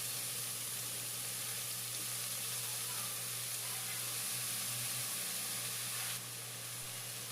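Kalai shak greens with onion sizzle in hot oil in a pan, a steady close hiss that holds evenly and drops slightly near the end, with a low hum underneath and no talk.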